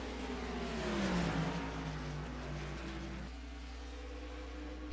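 NASCAR race cars in the NR2003 racing game at Watkins Glen, engines roaring and revving as the cars run side by side into a chicane, pitch climbing then dropping with a downshift, steady and fairly quiet.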